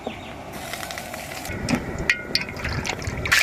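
A steady pour of cooking oil streams into a pan, close and continuous, growing slightly louder toward the end with small clinks.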